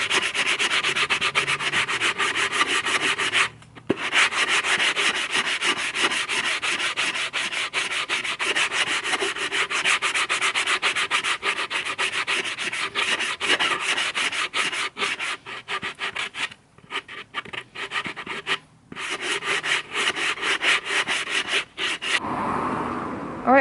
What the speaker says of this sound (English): So, off to sanding.